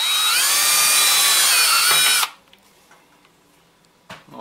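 A small power drill whines loudly at high speed while boring a hole through a homemade soldering iron's housing, running for about two seconds before cutting off abruptly, followed by quiet handling and a faint knock.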